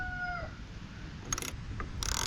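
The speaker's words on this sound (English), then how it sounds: "Ratchet wrench is nice." A ratchet wrench tightening a bolt on a salvaged lawn cart gives a couple of short bursts of fast metallic clicking, the last louder and closer. A rooster crows faintly in the background and no one talks.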